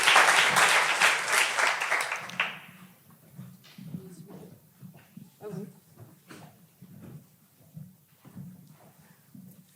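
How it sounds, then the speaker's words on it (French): Audience applause at a political rally, a loud burst of clapping for a couple of seconds that quickly fades, followed by scattered quieter thumps and shuffling noises. "on peut vous applaudir pour cette belle initiative"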